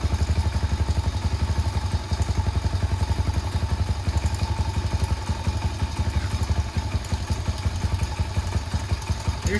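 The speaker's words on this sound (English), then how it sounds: "Looks like the starter will work. Start it right up." A 141cc big bore motorcycle engine runs steadily after starting, a close, loud, rapid even putter with mechanical clatter throughout.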